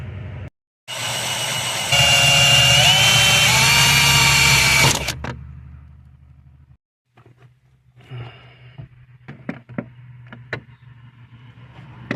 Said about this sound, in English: go ahead and drill this for the riv nut